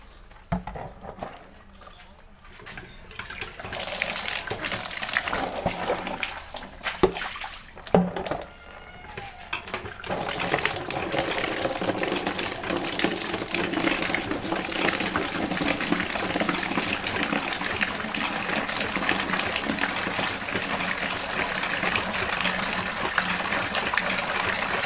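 Tap water rinses a washed motorcycle helmet, first in scattered splashes and trickles, then as a steady, loud gushing stream, with a voice heard at times.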